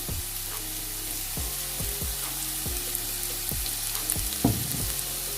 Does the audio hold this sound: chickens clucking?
no